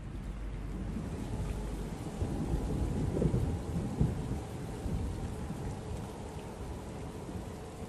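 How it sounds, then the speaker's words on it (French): Steady heavy desert rain hisses throughout at El Oued, Algeria, while low thunder rumbles in the background, swelling briefly near the middle. "J'ai vu la pluie tomber dans le désert."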